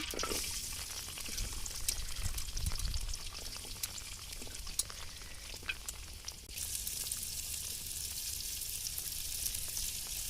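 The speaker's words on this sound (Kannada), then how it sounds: "ಎಣ್ಣೆ ಕಾದಿದೆ, ಇವಾಗ ಈರುಳ್ಳಿ ಹಾಕ್ತಾ ಇದ್ದೀನಿ" Onions dropped into hot oil for an avarekalu upsaru sizzle and fry steadily and close by, a continuous bright crackle with occasional stirring and a louder hiss surging in about two-thirds of the way through.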